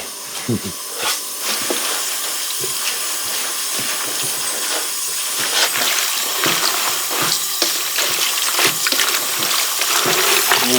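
Shiso leaves for umeboshi being rinsed under running tap water, a steady hiss of flowing water broken by splashes and handling noises, close and fairly loud.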